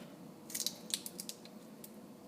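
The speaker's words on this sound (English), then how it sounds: "just peeling the shrimp off" Shells are peeled off raw white shrimp for a spaghetti dish, giving quiet, crisp snips and cracks in an irregular cluster over a soft background hum.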